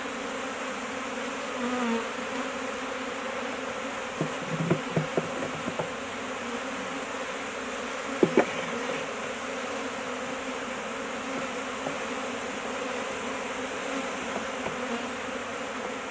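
Honeybee swarm buzzing steadily in a continuous drone, with a few brief knocks and taps, no talking.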